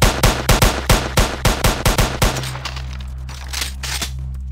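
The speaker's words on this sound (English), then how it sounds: "And dual pistol, which isn't auto, but is a lot if you spam click" Dual pistols in a Roblox game fire a rapid, uneven burst of about ten loud, close, sharp shots from spam clicking, then a fading ringing tail and quiet.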